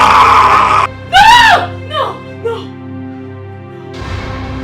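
A woman screams in a palace at night, with a sharp rising and falling cry and then shorter wails, set against a steady low hum and brief noisy bursts.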